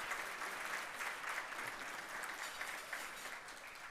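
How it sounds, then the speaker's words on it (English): Faint, steady applause from an audience at a community awards ceremony, clapping continuously for the awardees without a break and no voices above it. "Let's give another round of applause for all of those awardees."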